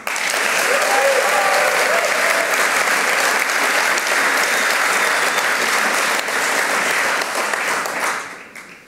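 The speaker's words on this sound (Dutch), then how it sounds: "Mag ik daarom een warm applaus" Loud, sustained applause from a large audience at a speech event fills the room and fades out at the end.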